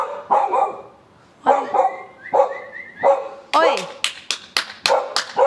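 Dog barking indoors, loud close barks in irregular bursts with a few rapid yaps near the end, while a person speaks briefly.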